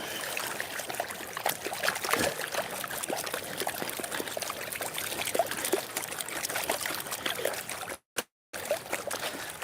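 Water sloshing and trickling in a gold pan while panning outdoors in muddy ground, a steady close splashing and pouring with small rattles, broken by a brief silent gap near the end.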